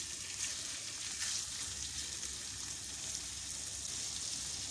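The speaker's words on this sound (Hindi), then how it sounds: "मैं इसको फ्राई करूँगी।" Chopped kidney, heart and liver fry in a pan with a steady, even sizzle and hiss that carries on without a break and without any talking.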